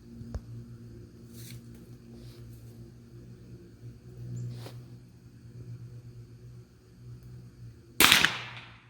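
A single sharp, loud crack from a .22 bolt-action rifle rings out near the end, following a long quiet stretch with only faint handling clicks.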